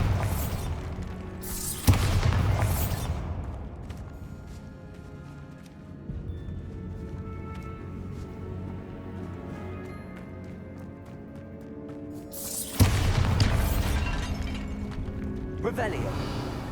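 Bombarda spell blasts in the video game Hogwarts Legacy: two loud, booming bursts near the start and another near the end, each with a sharp crack and a rumbling tail, under a continuous bed of game ambience.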